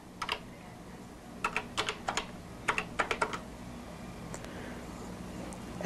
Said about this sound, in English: at the question mark, type a word or sentence.